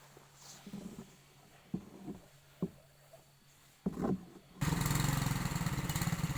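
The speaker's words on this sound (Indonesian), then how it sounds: "mesin sudah dinyalakan" A Sansin engine on a farm coughs through a few sputtering start attempts, then catches and runs at a loud, steady, rough drone up close.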